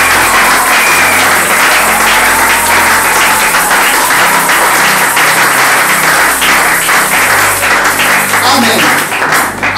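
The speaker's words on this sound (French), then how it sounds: "Il faut acclamer Dieu pour sa volonté." A church congregation applauds God in a long, dense wave of clapping that fills the room, steady and loud throughout, with crowd voices and cheers mixed in.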